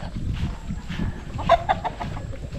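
A few short, moderately loud clucks from backyard chickens come close together midway through, over a low ambient hum, with no talk.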